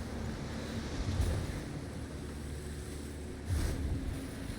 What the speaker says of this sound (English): Just the ocean.